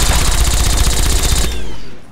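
Rapid automatic gunfire in the Fallout 3 video game, a dense burst of loud repeated shots for about a second and a half before cutting off into a fading tail.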